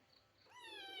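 A cat gives a single drawn-out meow while begging for milk, quiet and close, starting low and rising into a clear tonal cry.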